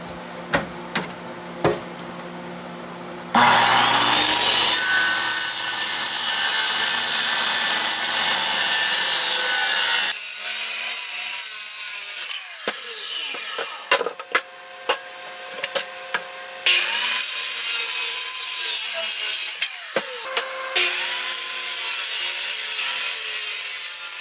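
A power drill bores and countersinks holes in wood while a battery box is built for a VW Kubelwagen, long loud whirring runs broken by short pauses and changes in pitch as the bit cuts, with no talk.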